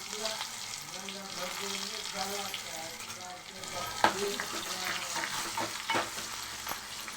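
Mustard seeds, cumin and garlic fry in hot oil in a home kitchen pan, giving a steady close sizzle with bursts of crackling and a few sharp pops, while a spoon stirs and scrapes throughout.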